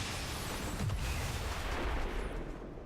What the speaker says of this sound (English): Go for an explosion.